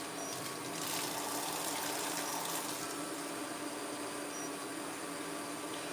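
Two cups of water pouring for cooking in a kitchen, a soft continuous splashing hiss for several seconds, fairly quiet.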